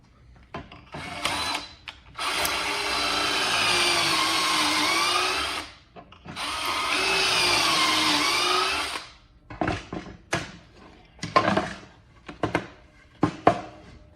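A drill whines loudly in two long bursts of boring pocket holes, separated by a short pause, followed by scattered clicks and clatter of handling.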